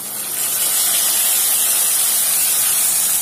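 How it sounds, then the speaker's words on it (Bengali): Ginger, onion, garlic and tomato paste added to frying onions in a pan: a loud, steady sizzling hiss of hot oil that holds evenly for a few seconds, close and alone. "এখন আমি মশলাগুলো দিয়ে দেবো। আমি মিক্সিতে যে মশলা বানিয়েছিলাম, আদা, পেঁয়াজ, রসুন আর টমেটো বাটা"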